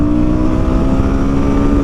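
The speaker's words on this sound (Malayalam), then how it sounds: "ഒരു രക്ഷയില്ലാണ്ടാണ് വണ്ടി വലിച്ചെടുക്കണേ" A Royal Enfield Guerrilla 450 motorcycle pulls hard under acceleration, its engine a steady, loud drone with a rising tone, close and continuous with no voices.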